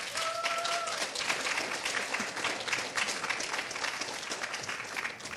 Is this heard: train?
no